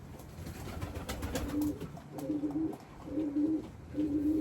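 A wild bird repeats a soft, low cooing call four times in a steady rhythm over faint background noise, with no talking.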